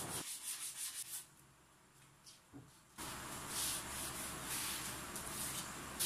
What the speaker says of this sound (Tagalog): gumamit ako ng scrap na plywood at binalot ito ng liha para maging pantay ang pagliha